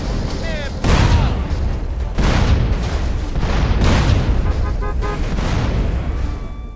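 Heavy booms and gunfire roll through modded GTA San Andreas with overhauled fire, explosion and muzzle flash effects, loud bursts layered densely over a man's continuous speech.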